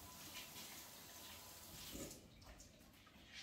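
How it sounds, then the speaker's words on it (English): Fresh zucchinis are rinsed under running water, a faint steady splash and trickle with slight changes as the vegetables move under the stream, heard without talk. "I'm just going to give these guys a rinse off."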